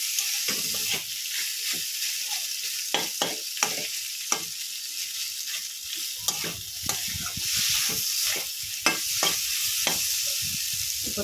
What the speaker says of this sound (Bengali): চামচ দিয়ে গেলে একটু ভেঙে দেবো আলুগুলো